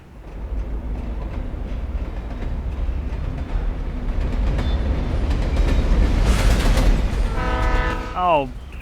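A train rumbles past in the video game Alan Wake, a loud sustained roar with rhythmic clatter building to a peak, then a horn blast near the end.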